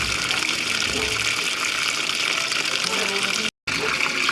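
A washing machine restarting and refilling with water, a steady loud rushing gush that runs continuously with one brief dropout, with voices talking over it.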